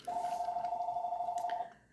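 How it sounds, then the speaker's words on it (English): A telephone rings once in a single sustained electronic tone lasting about a second and a half, fairly clear against a quiet room, then cuts off. "Just ignore the phone."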